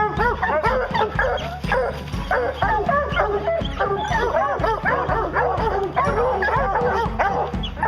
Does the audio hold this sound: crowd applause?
no